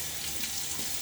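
Tap water runs steadily into a bathroom sink, a close, even hiss with no voices, as a man rinses his face partway through a wet shave.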